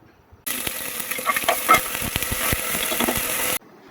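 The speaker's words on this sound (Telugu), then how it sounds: "అలాగే మనం కట్ చేసుకున్న పచ్చిమిర్చి, కరివేపాకు, 1 టేబుల్ స్పూన్ అల్లం వెల్లుల్లి పేస్ట్ వేసి బాగా ఫ్రై అవ్వనివ్వండి." Green chillies, curry leaves and a tablespoon of ginger garlic paste fry in hot oil for mutton curry, a sudden loud, bright sizzle with crackles and stirring clicks that holds steady for about three seconds and then cuts off.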